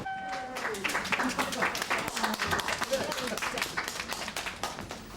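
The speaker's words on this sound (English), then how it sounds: "They're applauding our fundraising efforts, Vaughan." A crowd applauds for fundraising efforts with steady, lively clapping throughout while people talk and call out over it.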